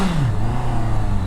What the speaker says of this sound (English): Shall I rev the bike just to get some reaction from public?